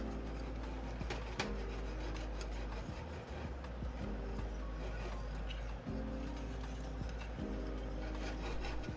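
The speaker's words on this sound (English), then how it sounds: "Scraping off those little bits of fond will add tremendous flavor to our meal." A spatula scrapes browned fond from a hot pan during deglazing, before the pork belly for garlic pork ramen goes back in the pot; steady rubbing, grating strokes over a continuous loud sizzle.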